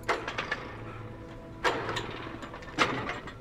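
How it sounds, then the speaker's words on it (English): An engine in the Alan Wake video game cranks and sputters, with a low mechanical rumble broken by two sharper bursts as it tries to catch. The sound is moderately close, with no speech. "I can start the engine"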